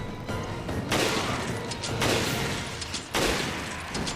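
Gunfire in Resident Evil Revelations, Abyss Raid Mode: three separate loud bursts of shots about a second apart, each a sharp crack with a ringing tail, heard over steady game background noise.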